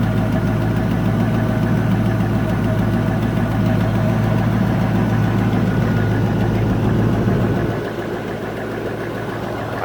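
A 1994 Range Rover's engine idles close by with a steady rumble and a faint ticking, then drops to a lower, quieter idle near the end.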